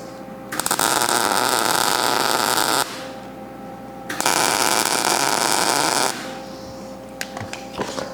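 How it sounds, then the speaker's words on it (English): Welding on a steel fabrication table: two loud bursts of crackling, hissing arc noise, each lasting about two seconds, separated by a short quiet gap, followed by a few faint clicks and taps. "And give it a couple more welds on there."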